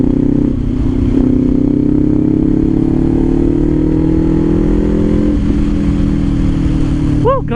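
Kawasaki Ninja 500 SE motorcycle accelerating on an expressway: a loud, continuous engine drone with slowly rising pitch under heavy wind rush, heard close from the rider's position.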